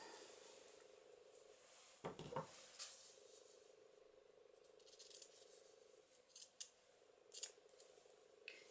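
Scissors cut through paper for a junk journal cover, giving a few crisp, close snips and rustles amid quiet handling noises, with no talking.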